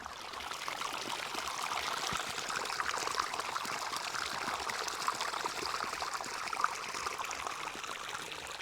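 Water flows and trickles steadily, a continuous bright rushing stream without any voices.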